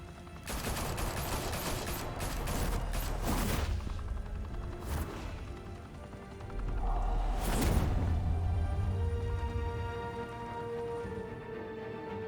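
Gunfire erupts in a Batman video game shootout at a high-rise mafia club in Gotham, with bursts of rapid shots, booms and whooshes continuing loudly throughout, without talk.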